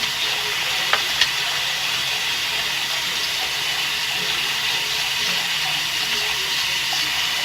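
Steady broadband rush of a running tap while surgical instruments are scrubbed clean underwater, continuous and even, with a couple of faint clicks early on and no talking.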